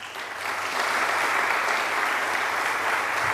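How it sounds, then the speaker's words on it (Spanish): Strong, steady applause from a church congregation welcoming a pastor at an evening Bible seminar session, a dense wash of clapping that swells after the first half second and holds loud and even throughout. "fuertes aplausos"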